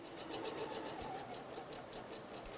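A sewing machine stitching quilting fabric, a steady rapid whir of needle strokes at a close, even pace, fairly quiet and running without pause.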